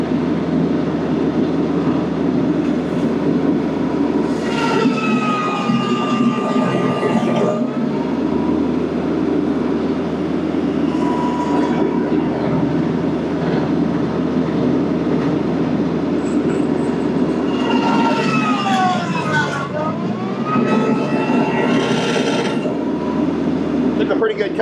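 Baumalight 3P24 articulating stump grinder on a tractor cutting into a stump: a loud, continuous engine and cutter roar that dips and strains in pitch as the wheel bites into the wood, with no speech.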